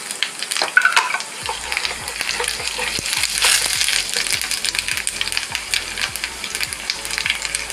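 Fenugreek and cumin seeds fry in a little oil for a curry leaf pickle, crackling and popping with quick clicking spatters and scraping over a steady sizzle.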